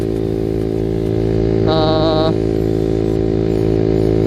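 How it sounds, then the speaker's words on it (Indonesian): A motorcycle engine climbing uphill drones steadily and loudly throughout, with a brief higher whine rising over the low rumble midway as it pulls under load. "ini sekalian nanjak ya, tak kasih impresi sedikit"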